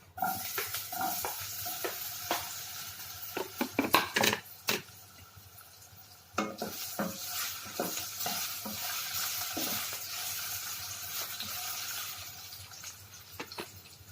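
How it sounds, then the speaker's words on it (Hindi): Potatoes fry in hot oil in a kadai, hissing steadily while a utensil scrapes and clatters in bursts, with a louder flurry of stirring midway, fairly quiet overall and no talking. "अभी ऑयल गर्म हो चुका है तो हम लोग इसमें ऐड करेंगे आलू।"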